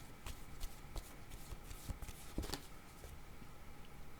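Tarot cards are shuffled by hand, giving soft, quiet papery riffles and taps in an irregular rhythm, close but faint.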